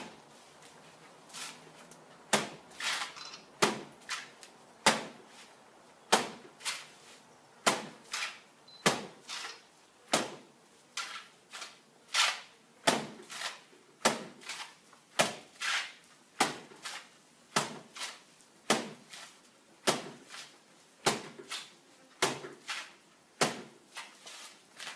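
A wet merino wool felt scarf slammed down over and over by hand, a steady series of about twenty sharp, dull thuds at roughly one-second intervals, close and loud with no talking.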